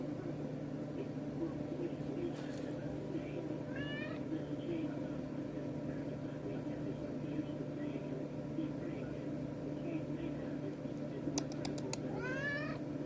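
A cat meows twice, once early and once near the end, over a steady low background hum with some faint movement noise.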